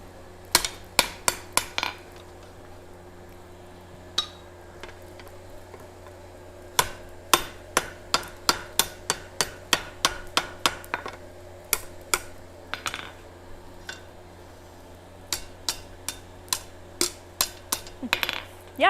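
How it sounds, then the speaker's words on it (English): A hammer rings sharply on hot steel on an anvil, bending it, in quick bursts of strikes, pausing between series, close and bright with no talking. "We'll use a hammer to sweeten up that bend."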